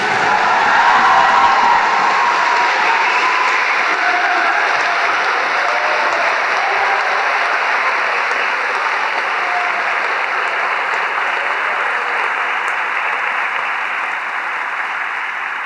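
Sustained audience applause at a college commencement ceremony, loud and dense at first, then settling into a steady roar that slowly fades over about fifteen seconds, with a few whoops.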